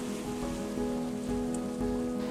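Rain falling steadily in Ecuador's Galapagos Islands during an El Niño season, a dense close patter of drops on surfaces that stays even throughout, with no voices.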